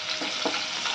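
Chopped garlic, ten to twelve cloves, fries in a pan with a dense, steady sizzle and a few soft stirring scrapes, close and alone.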